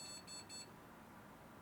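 A PC motherboard in a liquid-cooled RTX 3090 build with a Ryzen 5800X3D beeps with its graphics card disconnected: three short, high, tonal beeps in quick succession, then a steady low fan hum carrying on alone.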